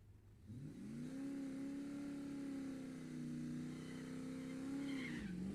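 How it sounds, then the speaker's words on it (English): Cars on an NHRA drag strip: a distant, steady engine drone with a rising then held tonal whine lasting several seconds, fairly faint and without talk. "I see automobiles on the racetrack."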